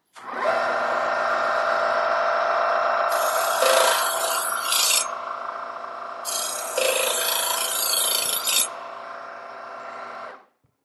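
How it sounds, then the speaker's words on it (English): A Kitchen IQ adjustable electric knife sharpener whirs steadily while a knife is drawn through from heel to tip, the motor hum joined by two bursts of bright grinding rasp before it switches off. "sharpening from your heel to the tip of the knife"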